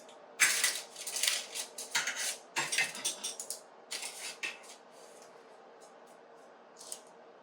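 A knife cuts through a cheesy spinach alfredo pizza on a protein crust with a run of close, crisp crunching and scraping strokes in the first half, then a quieter stretch with one last scrape near the end.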